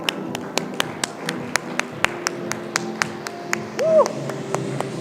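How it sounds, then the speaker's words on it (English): Applause at a design week panel session sounds as sparse, evenly spaced claps in a steady rhythm over a low room hum, with a short whistle-like sound near the end. "Let's keep applauding."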